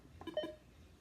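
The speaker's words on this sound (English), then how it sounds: "wait for it to beep" A quiet NLS talking book player gives a couple of short electronic beeps, faint and close, with otherwise near silence.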